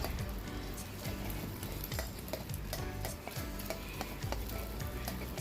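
Eggs and garlic stir-fry in a hot pan with a steady, dense sizzle, while a spatula scrapes and taps the metal in a quick, repeated rhythm throughout; no talking.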